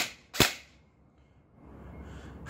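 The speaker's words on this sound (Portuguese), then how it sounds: "Vamos dar um disparo aqui no semi." An AEG M4 airsoft rifle with a blowback and recoil system fires a single semi-auto shot: one sharp, loud, close crack that dies away quickly into near silence, with another snap starting right at the end.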